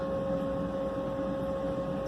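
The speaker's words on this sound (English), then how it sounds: "As you can see, it's circulating really well. Really pleased with the pan weld pump I got." A Pan Weld water pump circulates saltwater in a mixing station, giving a steady low electrical hum with a fixed tonal whine and soft water noise, unchanging throughout.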